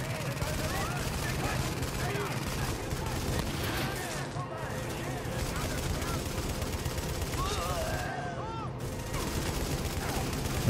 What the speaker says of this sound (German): Und vor allen Dingen hier so über die Mauer kann man halt extrem geil schießen, ne? So wie ich das jetzt gerade mache, mit so einem LMG